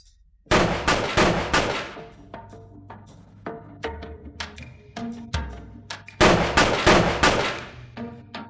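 A rapid volley of loud, sharp gunshots rings out, then scattered single shots with ringing echoes, and another burst of several quick shots near the end.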